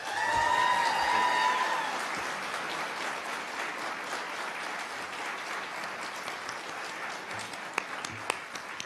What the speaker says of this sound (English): we do invite you to applaud now as we introduce our candidates